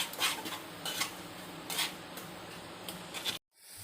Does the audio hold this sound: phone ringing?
no